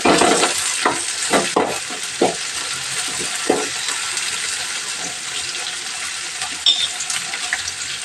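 Garlic, green chillies and tomato hit a hot pan and sizzle in a steady broadband hiss, broken by several sharp bursts and clatters as the pieces drop in and get stirred. No one speaks.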